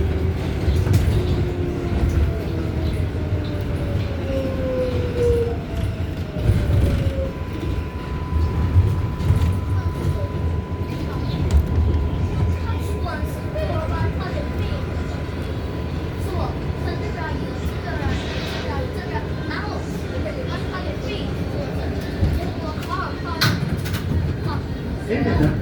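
An NYC subway R188 train riding the 7 line toward Flushing, a steady low rumble of wheels and car body with rising and falling motor tones and occasional squeals, and a voice speaking in the car partway through.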